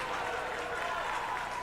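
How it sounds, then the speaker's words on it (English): Crowd applause at a men's college basketball game, a dense steady clatter of clapping filling the gym after a blocked layup, with an announcer's voice blended in. "everybody gives a clap to that"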